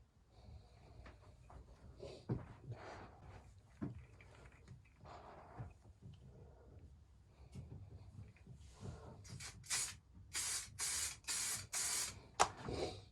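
Bursts of wide-nozzle spray paint hiss onto Yamaha DT125LC motorcycle parts, quiet at first and then a run of several short, close, loud sprays in quick succession near the end.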